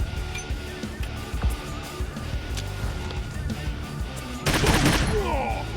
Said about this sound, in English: They can do that close suppressive fire shit all the time?